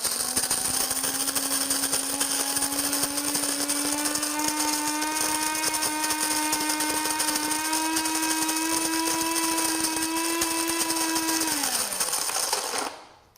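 A burr coffee grinder set to medium grinds beans in one continuous whirring hum with a rising pitch and gritty crackle, then winds down and stops near the end, with no voices heard.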